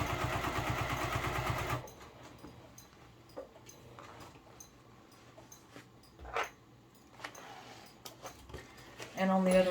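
A sewing machine stitches a seam on a business bag, its motor whirring loudly for about two seconds before stopping, followed by quiet handling noises and a voice talking.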